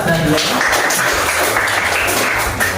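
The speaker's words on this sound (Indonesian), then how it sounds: "Baik, kita beri tepuk tangan ya" Schoolchildren clap together in an elementary social studies classroom, a loud, slightly uneven burst of hand claps that carries on with a few voices mixed in.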